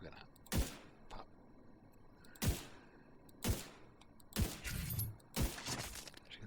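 Five sharp SVD sniper rifle shots ring out in The Division 2, fired through a digital scope at a distant target, evenly spaced with echoing tails and low background ambience between them.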